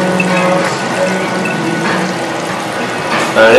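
A dual flush toilet tank refills after a flush, with a steady, continuous rush of water that stays even in level the whole time and swells slightly near the end.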